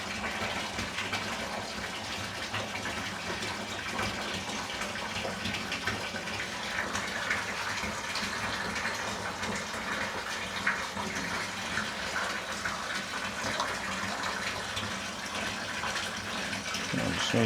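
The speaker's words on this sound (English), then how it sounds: "Man, there's water splashing all over." Water splashes all over in a loud, continuous rushing gush that stays steady throughout.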